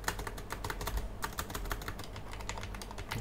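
Quick, continuous typing on a keyboard, many close clacking keystrokes in a fast, even flurry, with no one speaking.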